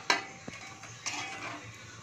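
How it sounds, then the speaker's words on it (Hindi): Spice masala with lightly browned onion sizzles faintly in a pan while a spoon scrapes and stirs it, giving a few sharp clinks over a soft frying hiss, close and fairly quiet, no talking. "मसाले को भूनना है।"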